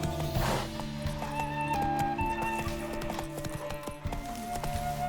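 A horse gallops in The Witcher 3: Wild Hunt, its quick clip-clop hoofbeats steady and close under a sustained game music score, with a whinny and brief voices.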